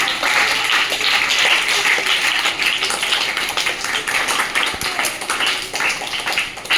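An audience claps continuously, a thick, even wash of applause at close range lasting the whole stretch.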